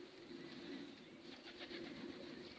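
Pigeons coo softly in a quiet enclosure, faint low warbling calls over a light background hiss, with no clear talking.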